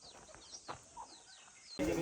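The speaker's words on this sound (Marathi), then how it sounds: "छान छान कोंबड्या आहेत" Soft chicken clucks and short calls at a house on a Sahyadri night trek from Rajgad to Sinhagad, scattered over a quiet outdoor background, ending in a sudden louder burst of noise.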